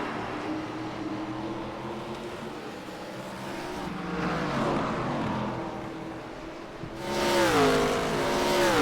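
ARCA race cars racing at Lime Rock, several engines roaring and shifting pitch as they pass, a steady loud drone that swells mid-clip and surges louder near the end as another car sweeps close by.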